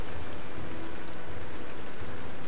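Rain conjured by a spell in the video game Magicka, a steady, even hiss of rainfall pattering on surfaces, continuous and fairly loud with no voices.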